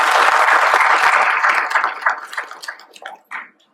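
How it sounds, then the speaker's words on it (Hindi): An audience at a speech event applauds a couple, starting as dense, loud clapping that thins into scattered claps and fades out. "इस कपल के लिए तालियां"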